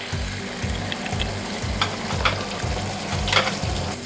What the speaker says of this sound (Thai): แล้วก็จัดการผัดข้าวนะครับ